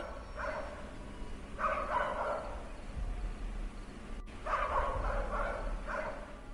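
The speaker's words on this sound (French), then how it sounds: "j'ai entendu beaucoup de chiens aboyer en même temps" Several dogs bark at once in a residential neighbourhood, bursts of overlapping yelps coming in two clusters over steady background noise, moderately loud and somewhat distant.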